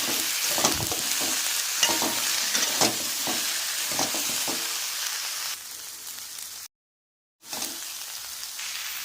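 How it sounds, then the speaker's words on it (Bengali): Cauliflower florets fry with spices in a pan, giving a dense sizzle broken by repeated scraping stirs of a spoon, close and steady, cutting out briefly near the end before resuming. "এবার ওর মধ্যে ফুলকপিগুলোকে দিয়ে দেবো আবারও ভালো করে কষাবো"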